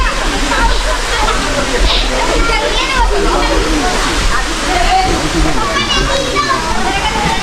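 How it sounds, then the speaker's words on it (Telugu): Children bathe and splash in temple water at Ugrastambham, with a steady rush of flowing water filling the scene and voices calling throughout. "పిల్లలు బాగా స్నానాలు చేస్తున్నారు ఇక్కడ ఎంజాయ్ చేస్తున్నారు"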